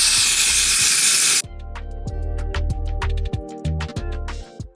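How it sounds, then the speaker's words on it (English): A long steady hiss of lace bond adhesive being sprayed onto a wig's lace sits close and loud, then cuts off into clicks and handling noises. "I'm about to spray this with some even one lace bond"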